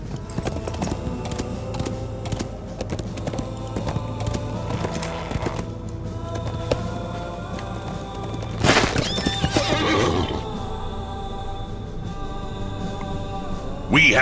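A horse whinnies loudly amid clip-clopping hooves, layered over sound effects and background music in the game Lord of the Rings Online.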